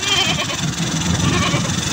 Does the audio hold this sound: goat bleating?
yes